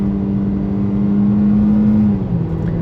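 Car engine revving loud and steady as it accelerates hard through a regular neighborhood, a sustained droning tone that holds for about two seconds before dipping slightly.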